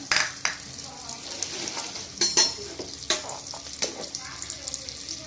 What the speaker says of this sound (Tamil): அது கரைஞ்சதும் இந்த பட்டையையும் இலையையும் போட்டுக்கலாம், பிரிஞ்சி இலையையும்